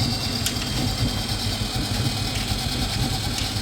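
A Bosch clothes dryer runs with its drum turning after a belt replacement, giving a steady low mechanical hum and rumble with faint rattles, close and continuous without talk.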